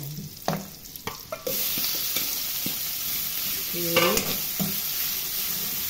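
Marinated pork dropped into hot oil with garlic, sizzling and frying loudly while being stirred in the pan, with clanking stirs and a single short spoken word near the start.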